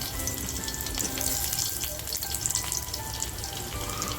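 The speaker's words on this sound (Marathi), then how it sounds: "तेल छान आपलं तापलं आहे लसूण टाकते" Garlic frying in hot oil in a home kitchen pan, a steady dense sizzle with crackling pops that holds at an even loudness throughout, close and with no talking.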